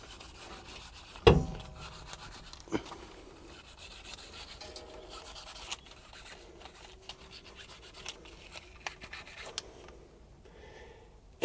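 A part from a Nissan Leaf being cleaned up by hand, with soft, steady rubbing and scraping throughout, opening with one sharp knock and a few light taps later, all fairly quiet with no talking.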